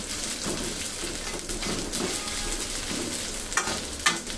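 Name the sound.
frying masala in a pan for chicken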